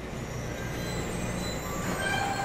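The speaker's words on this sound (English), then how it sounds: "The train." A train rumbles past in the video game Bendy and the Ink Machine, with a loud, steady roar of rolling wheels, metallic rattling and a thin wheel squeal throughout.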